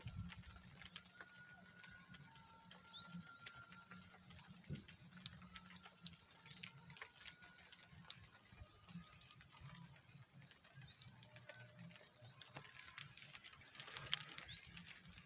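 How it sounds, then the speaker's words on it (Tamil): Light drizzle at night outside a tent, a faint wet patter with scattered drips and quick ticks over a low hiss, quiet and steady without speech. "மழை வேறு அப்படியே தூரல் போட்டுக்கிட்டு இருக்கா"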